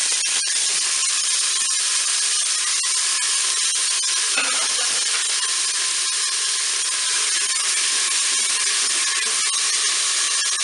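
Onions sautéing in hot oil inside a Cookeo multicooker on its browning setting, ahead of filet mignon, produce a steady, loud, dense sizzle that holds without pause.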